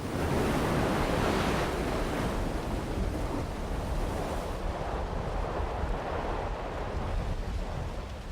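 Ocean waves rushing through a basalt blowhole tunnel on the Tahiti coast, a loud, continuous roar of surf with wind buffeting the microphone, building slightly early on and staying dense and close.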